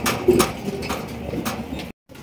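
Large Maltese pigeons coo close by, with soft repeated throaty calls over a faint rustle before a brief dropout near the end.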